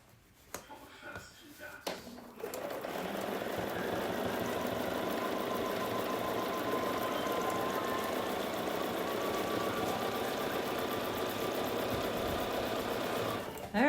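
Close and steady, a sewing machine stitches a quilt-as-you-go snowman tabletopper, running in a continuous mechanical whir for about eleven seconds after brief handling noises at the start.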